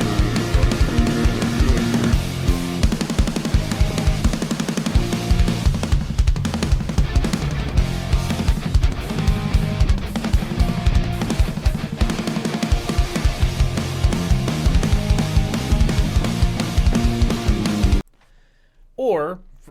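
Full-band rock recording of a music video, with drums, played loud and dense for most of the stretch before cutting out abruptly near the end into a brief quieter moment.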